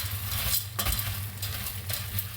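Erişte noodles toasting in melted butter in a pot, a close, soft sizzle with a low hum beneath and a few scraping stirs and light knocks, no voices.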